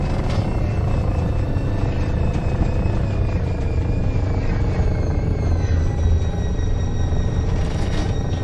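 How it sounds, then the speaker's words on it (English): Jet thrusters on a spaceship in the Elite Dangerous video game roar steadily, a loud continuous rumbling drone with a faint whining tone that holds without a break. "I'm using the jet thrusters to fly over some of those blocks to avoid getting stuck."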